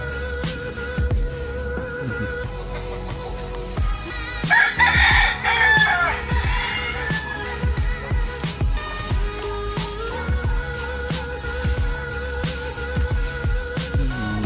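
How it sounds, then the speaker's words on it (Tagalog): Roosters crow repeatedly over a steady backdrop of clucking chickens on a farm in Zambales, Philippines, loud and close, with several overlapping calls. "Matatapag na manok na yan."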